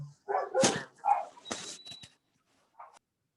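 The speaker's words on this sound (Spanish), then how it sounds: "se escucha un perro por ahí" A small dog gives a few sharp barks and yips followed by a brief whimper, indoors and fairly close, in short irregular bursts with gaps of silence.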